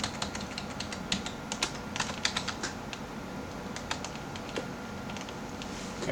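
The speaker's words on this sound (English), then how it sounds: "So I just copied and then held down Control-V, and it pasted a whole bunch." Computer keyboard keys clack in quick irregular bursts while copy and paste shortcuts are pressed, crisp nearby taps with short pauses and no talking.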